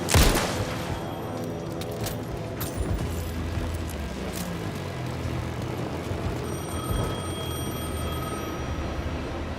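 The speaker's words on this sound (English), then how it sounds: "The phone was ringing again." A telephone rings repeatedly in the Alan Wake 2 video game, its bell tones steady and moderately loud over a dense, dark ambient bed, with no talk.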